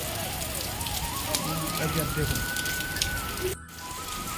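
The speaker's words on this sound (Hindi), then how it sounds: "ये देखो ओले है, बहुत ही तेज़ बारिश हो रही है" Heavy rain mixed with hail pours down as a dense, continuous hiss with pattering impacts, steady and loud throughout while a person talks briefly over it.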